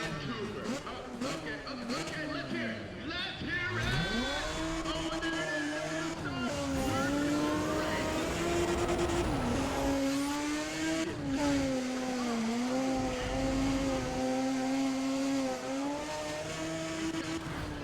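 Mazda RX-8 engine screaming at high revs in a Need for Speed drift race, with the pitch rising and dipping through gear changes and slides, loud and continuous for the whole stretch.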